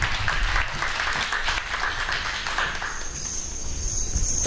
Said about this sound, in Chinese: 所以现在我们是不是借助各位热烈的鼓掌声，来送给我们朱王斌主席